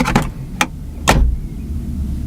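A sliding plastic roller shutter on a storage cabinet in a Volvo FH truck cab gives a few quick, rattly clacks and one louder clatter, close by, followed by a quiet cab hum.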